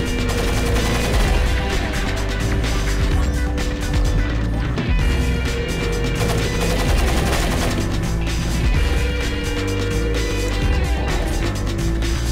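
Dense, continuous gunfire and impacts echo down hallways in Tom Clancy's Splinter Cell, a loud, unbroken barrage mixed with game music throughout.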